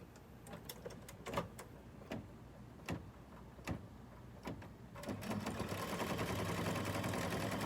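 Bernina 770 Plus embroidery machine stitching a fabric mug cozy, a steady rapid mechanical whirr with sharp periodic clicks, growing denser and louder toward the end, with no voices.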